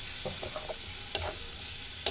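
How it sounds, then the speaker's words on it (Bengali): Spice paste sizzles and gets stirred with a splash of water in a pan for Bengali-style ghugni, a soft continuous fry with light scraping strokes and a couple of sharp utensil clicks. "সব কিছু দিয়ে এবারে একটু খুব সামান্য একটু জল দিয়ে মশলাটাকে কষে নেব।"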